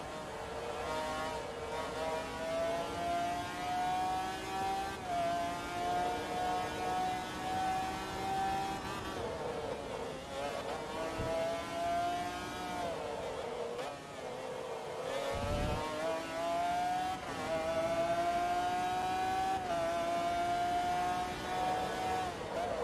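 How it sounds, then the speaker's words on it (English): A race car engine in Forza Motorsport 2 holds a steady high rev, with repeated brief dips as the gears shift, loud and continuous for the whole stretch, with no talk over it. "The engine's quite nice in this car"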